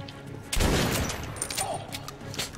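A shotgun fires in Metro Last Light: one heavy, booming blast around the half-second mark, then a rumbling tail and scattered fainter impacts, fairly loud and close.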